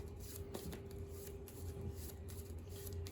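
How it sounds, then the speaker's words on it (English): Yu-Gi-Oh cards are shuffled into a deck close by with quiet, rapid papery riffles repeating over a few seconds beneath a steady electrical hum. "Shuffle them back into my deck."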